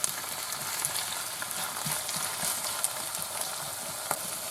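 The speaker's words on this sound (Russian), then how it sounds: "На минуты 3 еще обжариваем лук с грибами" Onion and mushrooms frying together in a pan give a steady, close sizzle with soft crackling and occasional stirring scrapes, with no one speaking.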